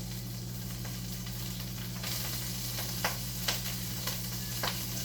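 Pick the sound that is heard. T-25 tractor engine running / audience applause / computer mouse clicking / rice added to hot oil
rice added to hot oil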